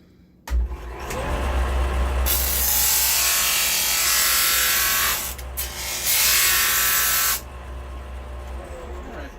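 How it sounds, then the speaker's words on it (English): A disc and belt sander combo whirs up to speed and sands a piece of scrap wood, with a loud abrasive hiss over the motor drone that stops briefly, then resumes before the machine winds down. "Maybe I can find some scrap wood and I will sand it"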